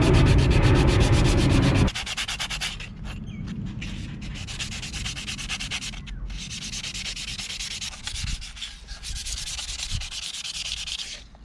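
A Logitech G920 handbrake part is sanded by hand, a loud rasping burst at first, then long runs of steady close scratching strokes with brief pauses.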